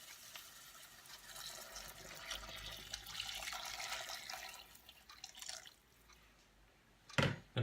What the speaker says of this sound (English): we're going to get our stock that we made up earlier, and we're going to add this into the pot